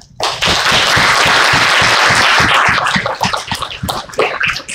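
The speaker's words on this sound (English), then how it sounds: "Let's all give a big round of applause for welcoming us Hmong to the United States of America." An audience at a community meet-and-greet event bursts into loud, dense clapping close by that holds steady, then thins into scattered individual claps near the end.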